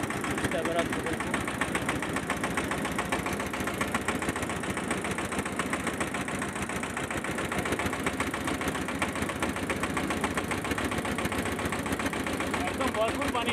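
A motor boat's engine runs on the full Teesta river close to the Teesta Barrage, a steady, loud chugging drone with a fast regular pulse that continues throughout.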